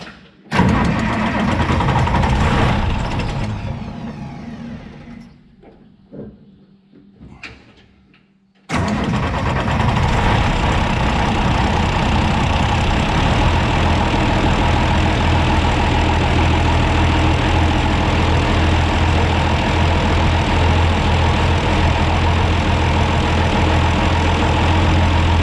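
A repaired engine cranks and catches, then sputters and dies away. It restarts into a loud, steady idle that runs on without a break, and nobody speaks.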